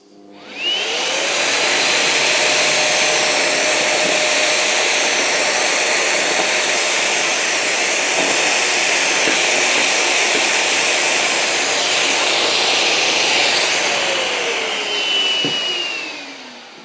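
A loud, steady roar of a dust extraction vacuum runs for about fifteen seconds, spinning up at the start and winding down at the end, with drilling under it while building a track saw cutting station.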